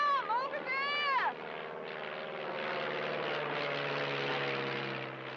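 A plane's propeller engine drones steadily over the sea, a sustained hum that follows a brief voiced sound at the start and carries on alone at moderate level.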